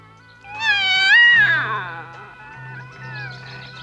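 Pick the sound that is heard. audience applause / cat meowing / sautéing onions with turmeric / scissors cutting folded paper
cat meowing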